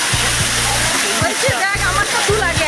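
A waterfall at Ajodhya Pahar, heard from a distance, rushes as a steady broad wash beneath a person talking throughout.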